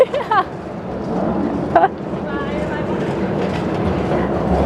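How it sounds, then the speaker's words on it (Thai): Miniature tourist train running on its track at a rural farm park, a steady rumbling rattle heard from on board, with a voice speaking briefly over it at the start. "ตอนนี้ก็อยู่บนรถไฟแล้วนะ"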